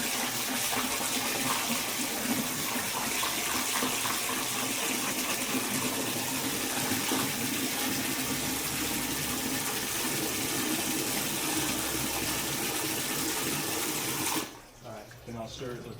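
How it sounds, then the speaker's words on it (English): Water pours steadily from close by into a nutrient solution mix of Epsom salt and MasterBlend 4-18-38 fertilizer for a Tower Garden, a continuous gushing flow that stops abruptly near the end. "add a little bit more water"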